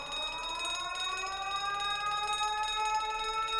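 A shipboard alarm rings steadily and loudly in The Great Ace Attorney Chronicles, a continuous rising wail with no speech over it.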